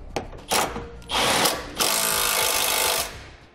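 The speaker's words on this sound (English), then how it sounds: "We can tighten that bolt down now." A power tool tightens a bolt on a front-mount trailer hitch receiver in short bursts: two or three brief whirs, then a longer sustained buzzing run, loud and close with no talking.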